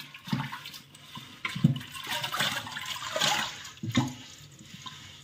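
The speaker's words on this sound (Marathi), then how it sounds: "हे असं वरपर्यंत असं सर्व चोळून घ्यायचं पाणी." A thick wet cloth rubbed with water over an old clay water pot, giving quiet wet swishing strokes that come in a few separate pulses.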